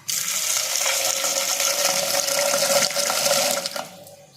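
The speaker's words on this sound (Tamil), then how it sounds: "இதை நம்ம கழுவி எடுத்துகிட்டு வந்துடலாம்." Horse gram, garlic, shallots and tomato are washed in water, making a close, continuous splashing and running-water sound that stops abruptly near the end, with no talk.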